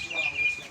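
A chicken gives a brief, close cluck lasting under a second, with a faint background murmur.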